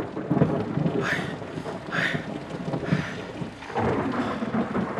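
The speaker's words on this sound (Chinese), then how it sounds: "这忽然降临的雨越下越大" Heavy rain pours steadily as a dense, rushing hiss, with several rolling thunder rumbles rising out of it, in a storm sound effect for a spoken story.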